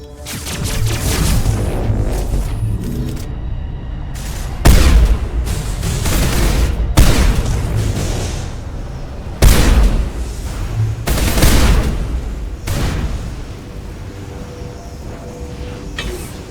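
Gunfire in the sci-fi video game Mass Effect, fighting Matriarch Benezia and Geth: loud shots and booming blasts land in heavy clusters over a dense, droning battle mix, with no voices.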